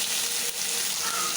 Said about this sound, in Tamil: வச்சுருக்கிற வெங்காயம், பச்சை மிளகாய், பூண்டு போட்டுக்கலாம். நல்லா வதங்கட்டும்.